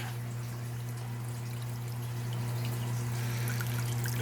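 Water flows steadily through an aquarium UV sterilizer, a soft continuous rushing and trickling over a constant low pump hum, close and alone.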